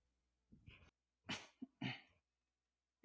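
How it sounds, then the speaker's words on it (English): A few close sneezes burst out one after another, separated by short quiet pauses. "Sneeze."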